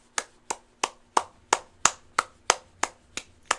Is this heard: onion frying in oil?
no